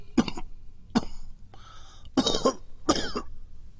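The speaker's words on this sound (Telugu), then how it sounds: "నాకేం పర్వాలేదు, కాస్త జలుబు దగ్గు" A person with a cold coughing four times in separate harsh bursts, close and fairly loud, with a throaty rasp between the coughs.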